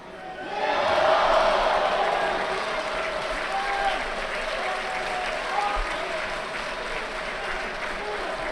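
A crowd at a judo Grand Prix in Tel Aviv bursts into applause and cheering after an ippon throw, swelling quickly and then settling into steady, distant clapping in a large arena.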